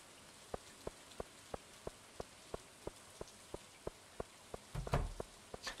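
Rain patters steadily in a video game on a rainy day, soft evenly spaced drip ticks over a constant hiss, with a louder splashy burst near the end.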